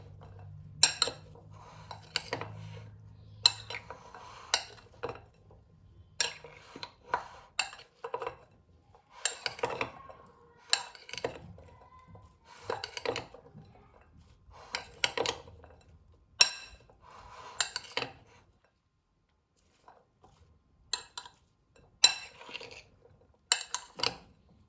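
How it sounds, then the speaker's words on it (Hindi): Utensils clink and scrape against a dish while channa chaat ingredients are mixed, with repeated short bursts of clatter in an irregular rhythm, close and moderately loud, and brief pauses between strokes. "अब हम इन सब चीज़ों को अच्छी तरह से मिक्स कर लेंगे।"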